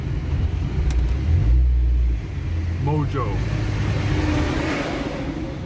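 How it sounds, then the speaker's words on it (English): Busy street traffic in Tamarindo, Costa Rica: a steady roadway rumble with a car passing near and revving briefly, while a person talks over the traffic throughout. "Now it sounds busy, there's a lot of traffic, it's crazy."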